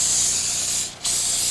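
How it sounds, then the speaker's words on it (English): Non-stick cooking spray hisses from a can onto a roasting pan in two close, steady bursts separated by a brief pause. "Then we spray a roasting pan with a non-stick spray to cut down on any sticking."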